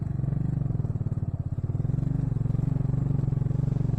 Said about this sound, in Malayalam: ചാടിത്തുള്ളിയാണ് ബൈക്ക് നീങ്ങുന്നത്.